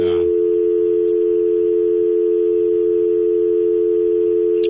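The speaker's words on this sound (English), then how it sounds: "I've got a dial tone on the line." A steady, continuous telephone dial tone hums unbroken throughout, loud and unchanging, with no voices.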